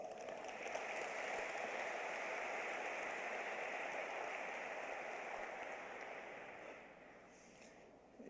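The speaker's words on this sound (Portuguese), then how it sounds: "Saudemos-lo com uma salva de palmas" A conference audience gives a long round of applause welcoming theologian Dr. Lourenço Stélio Rega, with dense, even clapping that holds steady for several seconds before thinning out near the end.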